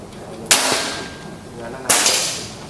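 Two sharp shots from a Bocap FX Mahameru wooden air rifle, about 1.4 seconds apart, each a loud crisp crack with a short tail, heard close and alone.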